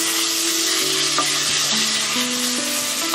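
Chicken thighs sizzle and brown in a pan while being stirred, a constant close frying hiss with occasional scrapes and clinks of the utensil.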